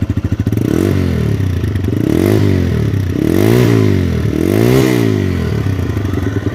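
A TVS Raider 125cc motorcycle exhaust revs up and down in several loud, throaty surges, each rising and falling in pitch, close by with no talking.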